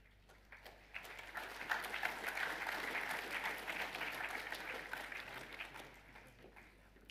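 Applause at a school assembly as the junior athletics team is announced, a sustained audience clapping that builds quickly, holds for several seconds, then tapers off.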